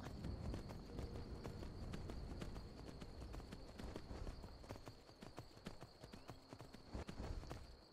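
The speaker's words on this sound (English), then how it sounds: "Why are there horses here?" Horses clip-clop in the video game Skyrim, a busy run of hoofbeats with a steady high tone in the background, fairly faint overall.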